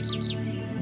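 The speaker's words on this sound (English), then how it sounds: "American goldfinch." An American goldfinch calls in the mystery game Nancy Drew: Ghost Dogs of Moon Lake, two quick high bright chirps in succession, clear over a low steady background hum.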